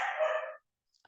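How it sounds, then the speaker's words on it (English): A dog lets out a single loud bark in the background, lasting about half a second, followed by silence and a couple of faint clicks. "apologies if you can hear my dog in the background"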